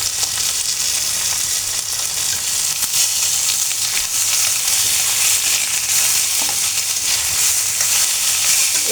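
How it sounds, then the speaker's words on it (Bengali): Onion, boiled garlic and Malabar spinach leaves fry in a pan, giving a steady, loud sizzle with faint stirring that runs unbroken from start to finish, with no voices. "এটাকে আমি 2 মিনিটের মতো একটু ভেজে নেব।"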